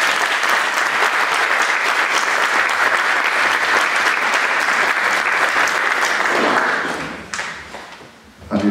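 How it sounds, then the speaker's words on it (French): Sustained applause from a church congregation during a sermon, thick and even clapping for about seven seconds before it quickly thins out and stops, leaving a few scattered claps and faint room noise. "Est-ce qu'on peut applaudir cet homme de Dieu?"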